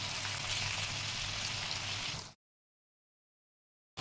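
Jackfruit pieces frying in hot oil for a vegetable curry, giving a dense, steady sizzle that runs for about two seconds, then cuts to silence before briefly resuming at the end.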